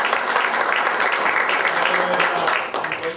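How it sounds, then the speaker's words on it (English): Lecture audience applauds the speaker after a history talk, a steady burst of clapping that dips slightly toward the end. "Let's give him a round of applause."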